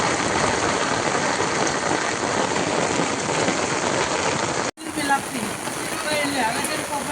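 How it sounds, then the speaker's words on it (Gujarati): Heavy monsoon rain pours down in Bhavnagar as a dense, loud, unbroken hiss of drops hitting surfaces, briefly cutting out once before continuing. "જોરદાર ભાવનગરમાં વરસાદ પડ્યો છે"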